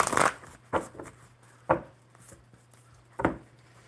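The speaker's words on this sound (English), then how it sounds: "One more good shuffle for Phoenix Rose" Playing cards shuffled at a table during a live coffee-and-cards session, heard as four or five separate close, soft riffling bursts spaced about a second apart with quiet gaps between.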